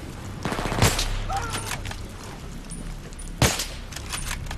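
Gunfire in the Battlefield 3 single-player campaign: a rapid rattle of shots early on, then two sharp, loud bursts a few seconds apart over a steady low rumble of battle ambience.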